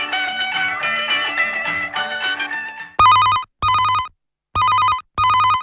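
On an All India Radio phone-in show in Ahilyanagar, a brief stretch of music gives way to a telephone ringing four times in loud, evenly spaced electronic bursts.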